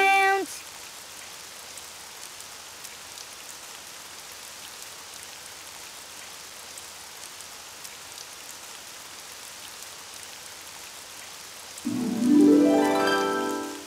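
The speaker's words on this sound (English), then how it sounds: "Oh, it's raining outside." Video game rain hisses steadily throughout, an even wash of falling drops, with a brief tonal electronic sound at the start and end.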